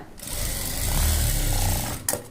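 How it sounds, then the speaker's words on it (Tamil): A sewing machine stitches cloth in one continuous close, loud mechanical whir lasting about two seconds before stopping with a brief clatter. "தையல் போட்டாச்சு"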